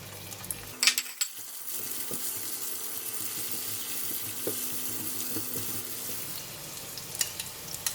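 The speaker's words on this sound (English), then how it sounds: "I'm going to put in the shiitake mushroom" Shiitake mushrooms going into a hot pan for a broccoli stir fry, giving a soft, steady sizzle with a few faint clinks and scrapes, quiet and continuous with no talking.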